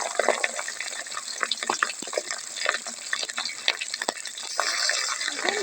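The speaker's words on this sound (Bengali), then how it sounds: "এবার মাছগুলো আমি ফ্রাই করে নেবো।" River fish frying in hot oil, a crackling, spattering sizzle with irregular pops over a constant hiss, moderately close and alone without talking.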